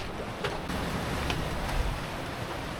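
Sea waves slap and wash against a sailing boat heeling in a strong 20 to 25 knot wind, a continuous broad rush with wind noise and a few louder surges.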